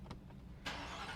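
A 2024 Ford Raptor R pickup's engine cranking and catching, a couple of faint clicks followed by a sudden close, loud surge into a steady running rumble.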